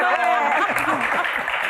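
A live audience at a Sundanese Q&A show with Sule claps and cheers briefly, a short burst of applause mixed with voices.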